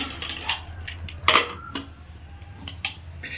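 A pressure cooker holding mutton in gravy is shut with its metal lid: several sharp metallic clinks and scrapes at close range, one louder clank near the middle, against a quiet room with no talking.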